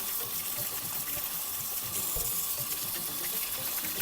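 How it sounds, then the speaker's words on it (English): Beets scrubbed with a firm-bristled vegetable brush under a running tap, a steady close rush of water filling the whole stretch with faint brushing mixed in. "give our beets a good scrub"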